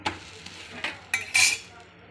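Dosa batter fries in oil on a hot griddle, giving a few brief close scrapes and a short sizzle burst under light kitchen clatter.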